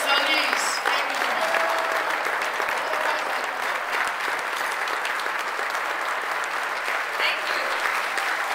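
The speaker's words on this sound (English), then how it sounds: "Please join me in a great round of applause to welcome the Secretary of Labor, Hilda Solis." Sustained audience applause at a conference welcoming the Secretary of Labor, Hilda Solis, a thick, even wash of clapping from a large crowd with faint voices and whoops mixed in.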